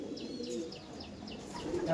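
Pigeons of the Andhra breed cooing softly with scattered chirps, a low murmuring coo under faint background activity at moderate distance.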